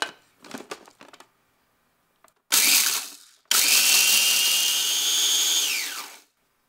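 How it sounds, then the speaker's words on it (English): A food processor grinds toasted spices for Malaysian chicken satay: light rattling handling first, then a short loud whirring burst and a longer sustained roaring grind that winds down to silence. "transfer the toasted spices to the food processor and grind."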